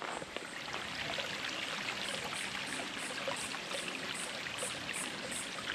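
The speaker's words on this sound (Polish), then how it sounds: "Dojść do wodospadu i zobaczyć, ile mają wody." Water from a waterfall on Table Mountain in Cape Town trickles and splashes in a soft, continuous stream, faint and steady with no voices.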